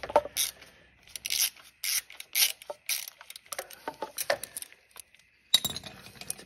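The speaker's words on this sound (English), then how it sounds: "So I need to take off this Torx bolt here." A Torx bolt comes out of a bracket on a Triumph Speed Twin motorcycle during a belt conversion, with close, irregular metallic ratchet clicks and tool clinks in short bursts separated by brief pauses.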